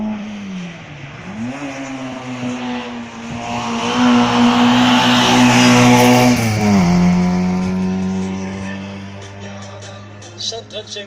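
A red and blue Honda race car climbs a hill-climb course, its engine revving hard through rising gear pulls, loudest at mid-run before fading off, with a commentator's voice over it.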